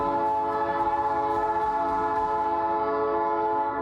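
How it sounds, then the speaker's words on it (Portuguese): A train horn blares in one long, sustained, loud blast with rich harmonic tones, holding steady for several seconds and tapering slightly at the end, with no talking over it. "Vamos curtir a buzinada do trem junto aí."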